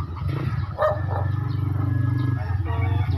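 Dogs bark a few times at a moderate distance in a semi-rural area of Caloocan City, Philippines, over a steady low engine-like hum, the barks brief and scattered.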